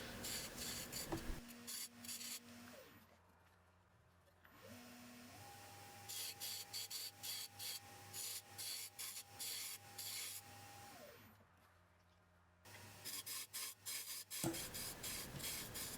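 A turning tool cuts into wood on a lathe, working from the centre outwards, with bursts of rasping scraping strokes in a steady rhythm, broken by quieter stretches of motor hum that rises and falls in pitch.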